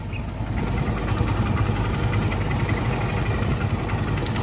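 Steady close idle of a Honda Unicorn motorcycle engine, hot after an engine flush, with a rough, even mechanical rumble and faint vibration throughout, no voices.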